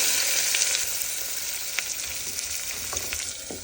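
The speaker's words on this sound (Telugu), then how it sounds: "కుక్కర్లో ఒక స్పూన్ ఆయిల్ వేసి ఇక్కడ మగ్గించి వేసేయండి టర్మరిక్ పసుపు కట్ చేసిన ఆనియన్" Onion and turmeric frying in a spoon of oil in a pressure cooker, a steady close sizzle with faint stirring scrapes, no talking.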